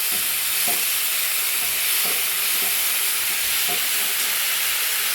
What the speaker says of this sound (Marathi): त्यामध्ये टाकून घेऊया शेपू जो आपण कट केलेला आहे तो आणि तो पण आपल्याला मस्त असा परतून घ्यायचा आहे